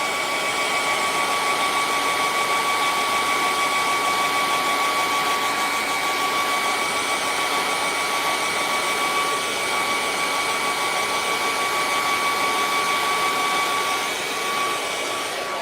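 A hair dryer blows steadily and loudly for the whole stretch, drying a watercolour painting of trees, its even whooshing roar carrying a faint whine and no voices over it.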